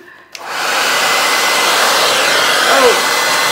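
A hair dryer blows steadily and loudly across a Dutch-style acrylic paint pour, switching on after a brief quiet moment and holding a constant close-up roar to the end.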